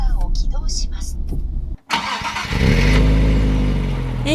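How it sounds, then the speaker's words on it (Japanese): A 405-horsepower Nissan Fairlady Z with a six-speed manual fires up after a voice speaks, the starter catch giving way to a loud, close, steady idle. "エンジン始動は最高だ。"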